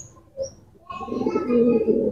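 Pigeons coo in a low, warbling burst after a couple of brief, faint chirps, the cooing continuous and fairly close, with a hint of voices in the background.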